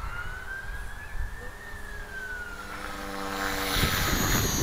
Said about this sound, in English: the motor bogged down.